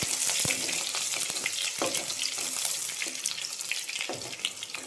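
Ingredients for a drumstick, okra and dal curry with mango are stirred in a hot pan, giving a steady close sizzle broken by scraping, clattering stirs, with no talking.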